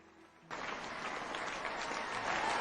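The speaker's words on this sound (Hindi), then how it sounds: "इनके लिए एक जोरदार ताली से वेलकम करें।" After a brief quiet moment, a crowd at a DXN product training event breaks into loud, sustained applause to welcome a speaker on stage, the clapping starting abruptly and holding steady to the end.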